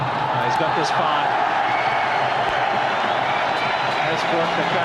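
Cricket crowd roaring after a boundary in a Pakistan versus Sri Lanka match in Sharjah: a dense, steady wall of cheering and noise that fills the whole stretch, with a commentator's voice talking over it.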